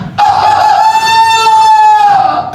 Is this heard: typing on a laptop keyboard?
no